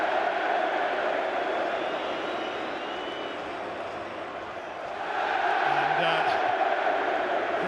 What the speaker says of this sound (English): the cheer from the Newcastle fans is because Alan Shearer's image is also on the big screen inside the stadium